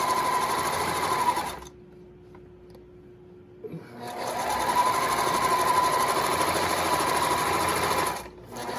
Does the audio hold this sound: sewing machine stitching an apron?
yes